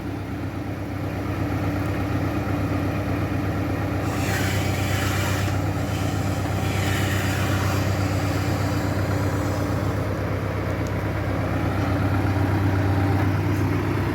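An MTZ tractor engine runs steadily nearby, powering a Troll-350 loader through its PTO, a continuous low diesel drone with faint rattling on top, unbroken throughout.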